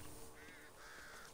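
Birds in the Back 4 Blood game give two short, faint cawing calls in quick succession, set low beneath a steady background hum.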